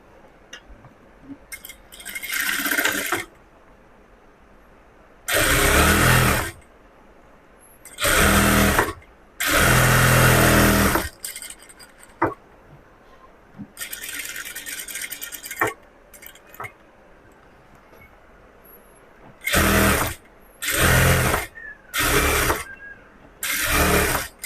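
A sewing machine stitching a frock runs in about nine loud, close bursts of rapid mechanical whirring, separated by short quiet pauses while the fabric is repositioned.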